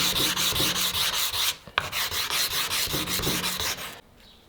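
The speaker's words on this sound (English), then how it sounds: "I began sanding the blade in preparation for heat treatment." Rhythmic back-and-forth sanding strokes on a Damascus steel knife blade, worked to 150 grit, with a brief pause and a sharp tap midway before the steady rubbing resumes and then stops.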